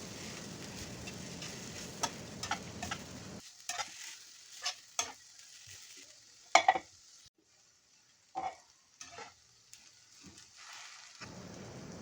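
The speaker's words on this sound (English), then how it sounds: "Mix everything." Quinoa beetroot noodles and vegetables, with soya sauce and hot sauce, are mixed in a pan, giving scattered scraping and clinking strokes with some sizzle, separated by quiet pauses.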